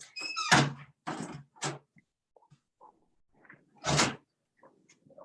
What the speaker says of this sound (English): Let me see if I shut the door,